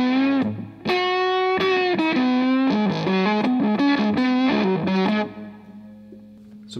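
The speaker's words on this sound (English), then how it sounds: "So you get kind of a fuzz kind of thing with synth components added to it." TWA Triskelion 2.0 Harmonic Energizer pedal adding a fuzzy, synth-like tone to electric guitar, sustained chords and notes played in a few loud bursts with a rich stack of harmonics, fading down at the end.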